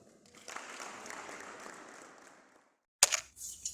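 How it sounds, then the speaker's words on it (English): Sustained crowd applause, a dense patter of many hands clapping that fades out, followed after a short silence by a sharp click and a brief noise. "a round of applause and we may sit down"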